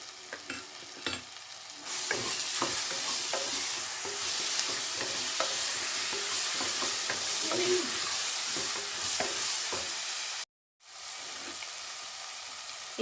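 Ginger garlic paste fries with onions in a pan, giving a steady loud sizzle broken by scraping stirs, with a brief cut to silence near the end.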